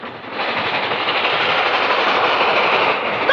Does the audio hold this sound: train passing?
yes